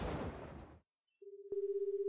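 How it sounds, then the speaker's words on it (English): A steady electronic phone tone rings out in the Killer Bear video game, starting alone after a burst of noisy action and a short silence, then continuing as a sustained ring. "The phone's ringing."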